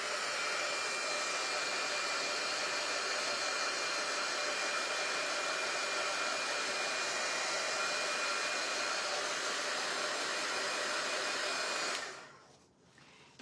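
A hair dryer blows steadily and loudly on a green-painted Christmas craft item for about twelve seconds, then cuts off abruptly, leaving near-silence.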